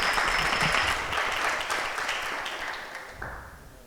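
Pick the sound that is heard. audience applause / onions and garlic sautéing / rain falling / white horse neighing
audience applause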